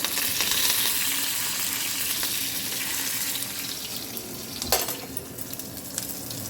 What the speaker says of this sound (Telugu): ఇక్కడ చారు పోపు వేస్తున్నా